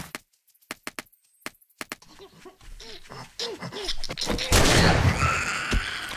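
Shotgun blasts in the video game 7 Days to Die, Alpha 19 on Insane Nightmare difficulty: a rapid run of sharp, separate booms, then a breathy panting voice and a dense, roaring burst of noise.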